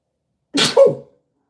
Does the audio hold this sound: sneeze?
yes